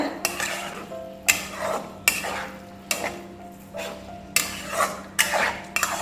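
A spoon stirs vangibath masala into brinjal in a pot, bringing a series of about six distinct scraping, clinking strokes over a soft steady sizzle.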